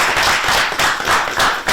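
A quiz-competition audience gives the contestants a brief, loud round of applause, a dense burst of clapping that swells in waves and stays close and full throughout.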